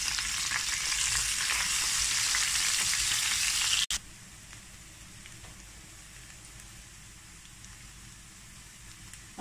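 Onions sizzle loudly in a hot pan, the hiss dropping to a softer steady frying after a brief clatter about four seconds in.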